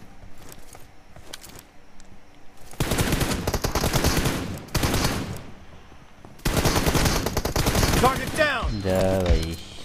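Automatic gunfire in the mobile battle game PUBG Mobile: two long, dense bursts of rapid shots, close and loud, separated by brief pauses, with scattered quieter noises and a short tonal game sound at the end.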